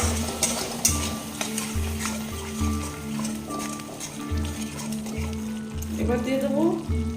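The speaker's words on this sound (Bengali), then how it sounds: "খুব ভালো করে এবারে মিশিয়ে দেবো।" A spoon stirs whipped sour curd into a katla fish curry in a pan. It scrapes and clatters over a low sizzle, with background hum and a voice talking throughout.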